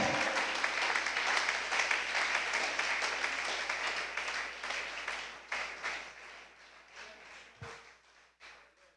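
A church congregation applauds during a Spanish-language Sunday school service, dense clapping that starts loud and full, then thins and fades toward the end with a few scattered claps, with a faint voice now and then underneath.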